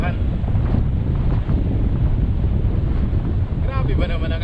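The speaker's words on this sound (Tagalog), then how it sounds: "Grabe ba naman ang hangin?" Strong wind at sea buffets a fishing boat, a loud, constant roar of gusts with wind noise on the microphone and the wash of water, and a faint voice near the end.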